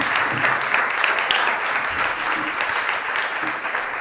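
Loud, dense applause from an audience at a Spanish-language political event about the future of Europe, steady clapping sustained throughout with a few faint voices mixed in.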